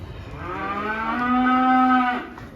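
An Angus cross calf gives one drawn-out moo, loud and close, rising in strength before stopping abruptly, with no talk over it.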